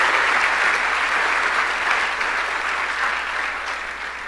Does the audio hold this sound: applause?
yes